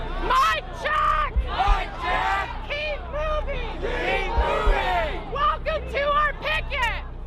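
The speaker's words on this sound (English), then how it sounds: "this crowd of around 50 to 60 demonstrators is now being joined by the entire demonstration" A crowd of around 50 to 60 demonstrators at a pre-dawn Occupy port blockade, with loud overlapping shouts, whoops and chanting voices close by, plus a couple of low thumps.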